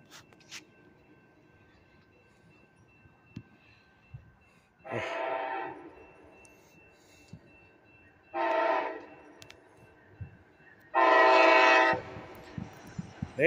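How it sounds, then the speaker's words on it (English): An Amtrak passenger train on the Grand Rapids to Chicago line passing through a small-town neighborhood, sounding three loud horn blasts, the last longest, over faint background noise. "And of course, we got a train coming."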